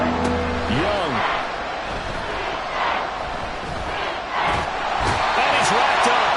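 Steady roar of a video-game football crowd in Madden 24, Buccaneers versus Panthers NFC championship, a dense wash of noise swelling in waves with occasional sharp bursts, running throughout.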